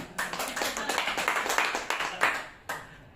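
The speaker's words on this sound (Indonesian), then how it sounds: "Tepuk tangan buat Pak Daniel biar semangat." An audience claps at an indoor gathering, a steady run of sharp, fairly close hand claps over a few seconds that thins out and stops near the end.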